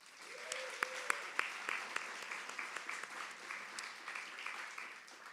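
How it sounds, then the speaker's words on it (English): Warm, fairly faint audience applause fills an award ceremony for graduation prizes, a continuous patter of many hands with a few sharper claps standing out and no talking over it. "please give a warm applause for her"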